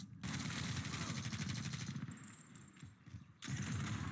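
Sustained automatic gunfire in a first-person shooter video game, a dense rapid rattle running nearly the whole time with a brief lull before it resumes loudly.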